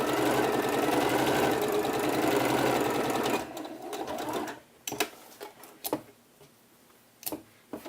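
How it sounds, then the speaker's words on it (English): A sewing machine stitches a French shoulder seam on a blouse with a quarter-inch allowance, running steadily and close for about three seconds, then stopping and giving way to scattered light clicks and handling taps. "using the 1/4 of an inch seam allowance, we are now going to stitch with the wrong side of the garment facing towards us"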